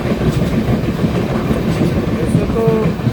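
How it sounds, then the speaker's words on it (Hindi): A passenger train on a long-distance Indian journey overtakes an express train near Tiruvannamalai station. The wheels and carriages make a loud, continuous rumble and clatter from on board, with faint squeals near the end. "कोई एक एक्सप्रेस को हम ओवरटेक कर रहे हैं अभी"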